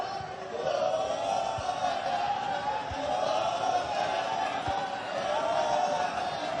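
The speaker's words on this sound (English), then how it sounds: "You can hear the crowd as well. They're giving him the oles." Stadium crowd in the football video game eLibertadores chanting oles, a broad sustained roar that swells and eases over several seconds, with a few thumps underneath.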